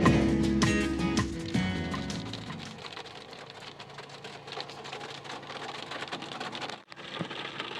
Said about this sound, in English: Windshield was watery mostly, with wipers on.